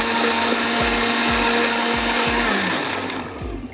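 A kitchen blender whirs loudly as it mixes salted chutney, the motor droning steadily with rhythmic thumps and then winding down toward the end.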